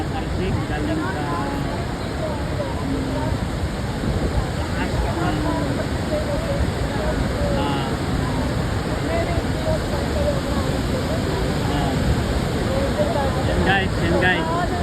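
Continuous loud roar of wind and rushing, splashing waterfall spray, dense and unbroken throughout, with faint voices buried underneath.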